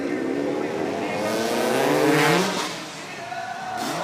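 Motocross bikes race at an X Games event, their engines droning and rising in pitch as they pass, with a loud swell midway, heard from a distance.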